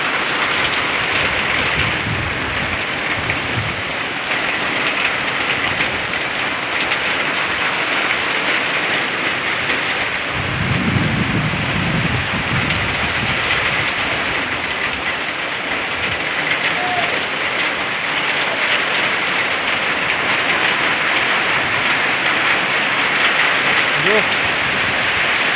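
Heavy rain drums loudly and steadily on surfaces throughout, a dense unbroken roar, with a low rumble of thunder swelling briefly about halfway in.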